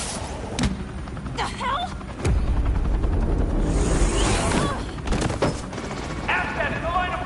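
Gunfire in the video game Batman The Telltale Series: sharp shots and bursts crack over a continuous helicopter-like rotor roar, with a short spoken exclamation in between.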